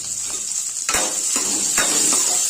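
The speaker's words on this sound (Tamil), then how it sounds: "வெங்காயம் நல்லா பொன்னிறமா வர அளவுக்கு எண்ணெயில வதக்கிக்கோங்க" Steady hiss of onions and tomatoes sizzling in hot oil, with a few soft scraping stirs of a spoon against the pan.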